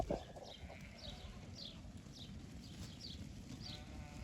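Sheep and goats being moved as one big flock give soft, repeated bleats at a distance over a low ambient rumble, with no speech.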